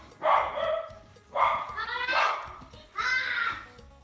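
A guard dog barks in three sharp, close bursts spaced about a second apart, some with a yelping, whiny edge, against a quiet indoor background.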